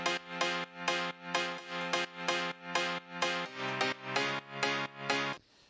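A synth preset with a piano-like noise layer repeats sustained chord stabs in a steady pulse, each bright and full with a quick release, ending in a short fading tail.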